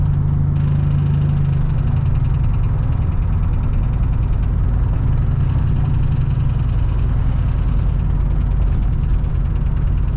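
A turbocharged street truck engine idles loudly and continuously, its low rumble carrying an abnormal knocking noise that persists throughout.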